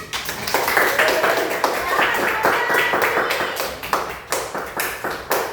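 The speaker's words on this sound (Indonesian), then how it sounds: "Masih tepuk tangan." A class of schoolchildren clapping hands, sustained loud rhythmic applause with distinct claps throughout, mixed with children's voices.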